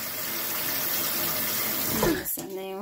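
Water pours and splashes onto toy paper and aluminum boats, a steady close stream ending in a sudden gush, with people talking and exclaiming around it.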